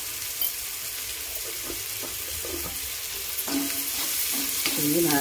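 Dried shrimp and potato sautéing in a pan over a low gas flame, giving a steady soft sizzle with intermittent scraping stirs that grow a little louder toward the end, no voices.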